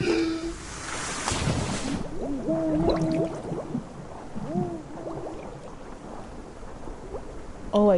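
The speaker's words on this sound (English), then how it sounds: "I hear water too" Rain and water wash through a dark scene in The Last Door game, a steady hiss with low rumbling underneath, while a few muffled voiced sounds drift in and out.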